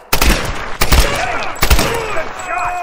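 Gunfire in the 2013 Tomb Raider game, three loud sharp bursts of shots spaced under a second apart, each ringing out with echoing tails and debris sounds, with shouted voices over the action.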